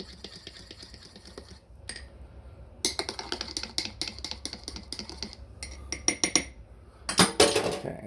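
A spoon stirs DaVinci French vanilla syrup into a cup of coffee, giving rapid close metallic clinks against the cup that start sparse, then run in quick bursts and grow louder at the end, with no voices.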